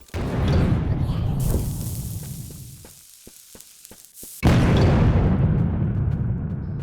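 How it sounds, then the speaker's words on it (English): A powerful bomb explodes in a Skyrim-like fantasy RPG, a sudden loud blast that follows a rumbling build-up and a brief lull of small clicks, then rolls on in a sustained roar. "apparently bombs are pretty powerful"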